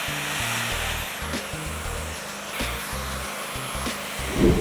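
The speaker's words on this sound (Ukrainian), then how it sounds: "фен з насадкою дифузор і зафіксую холодним повітрям наші пасма" A hair dryer with a diffuser attachment blows cool air with a steady, loud whir close by, its airflow hissing evenly throughout.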